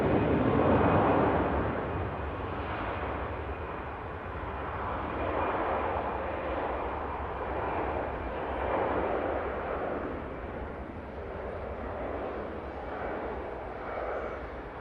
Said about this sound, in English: Here goes the EasyJet to Belfast.